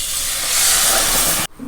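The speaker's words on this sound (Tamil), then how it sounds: "லேசாக கொதி ஆரம்பிக்கிறது." Coconut milk in a pan on a stove, set to a low flame, gives off a loud, close, steady hiss that cuts off abruptly near the end.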